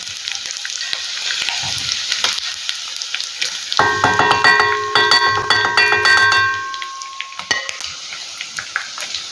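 Chicken pieces for fried chicken biryani sizzle steadily in a pan, a close, continuous crackle that runs throughout, with a brief ringing tone layered over it midway.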